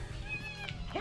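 A cat enemy meowing in the video game Castlevania: Symphony of the Night, one brief drawn-out meow over game background noise.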